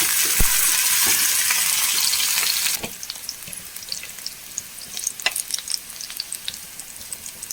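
Crushed onion and curry leaves hit a hot pan for a vegetable stir-fry, giving a loud, bright sizzle that drops abruptly to a quieter crackle with scattered stirring clicks and taps.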